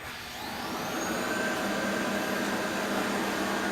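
A eufy RoboVac G10 robot vacuum cleaner runs with a steady, close whirring hum that rises slightly at the start and then holds constant, with no talking.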